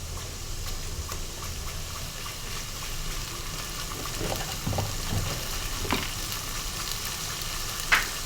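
Onions frying in a pan, softening in oil with a steady, moderately loud sizzle throughout, broken by a few faint clicks and a light utensil tap near the end.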